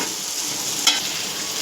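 Chicken frying in a pan with turmeric and salt, a continuous bright sizzle with one sharp clink of a spoon partway through, close and alone.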